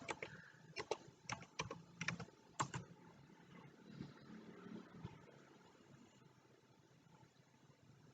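Quiet typing on a computer keyboard gives a short burst of sharp clicks, then fades into faint background hiss.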